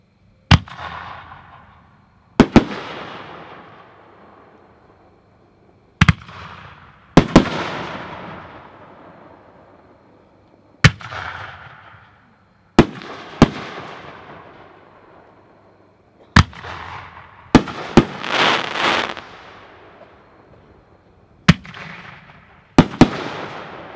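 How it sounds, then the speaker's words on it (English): 60 mm firework shells from 76 Pro burst one after another, sharp loud booms spaced a few seconds apart, each trailing into a crackling decay, with a brief denser cluster of bursts near the end. "Number 7 are the 60 millimeter shells by 76 Pro."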